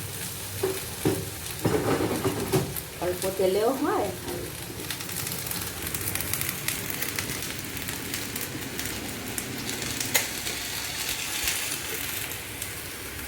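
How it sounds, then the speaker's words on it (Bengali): Air-fried okra tossed with potatoes in a pan for an okra-potato poppy seed dish, a continuous sizzling hiss with stirring scrapes throughout and a brief spoken line near the start. "দিয়ে দিচ্ছি আলুর সঙ্গে একটু নেড়ে নেবো"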